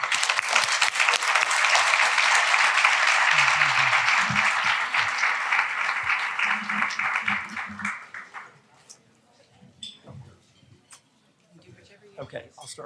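A seated audience applauds to welcome a speaker at a formal talk, loud sustained clapping for about eight seconds before it thins out into scattered claps and faint room murmur.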